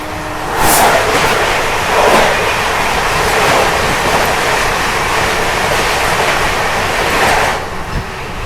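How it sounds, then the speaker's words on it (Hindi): The Bhusawal–Nizamuddin Gondwana Express rushes past in the opposite direction, a loud, steady rumbling roar with whooshing surges near the start and end, heard without any talk. "अभी सामने से आ रही है भुसावल निजामुद्दीन गोंडवाना एक्सप्रेस"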